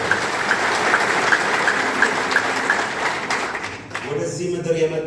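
A congregation at an evangelical church conference in Umtata, South Africa, gives a sustained burst of dense applause for about four seconds. The clapping then fades as a voice begins speaking.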